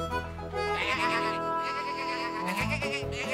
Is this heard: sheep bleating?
yes